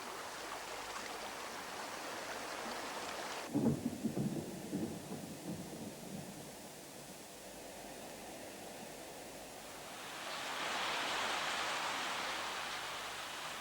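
Heavy rain pours steadily with a sudden low rumble of thunder partway through, followed by a swelling surge of downpour near the end; no voices, broad and continuous like a documentary storm effect.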